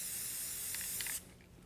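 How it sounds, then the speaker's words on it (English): A steady hiss of Rust-Oleum matte coffee bean spray paint jetting from a rattle can onto a sheet, close and continuous for just over a second before cutting off abruptly, with no talking. "So I'm just gonna spray a little bit of this out onto the sheet over here."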